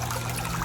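Water trickles and pours steadily into the drain of a filtration tank, a constant close splashing wash with a low hum beneath.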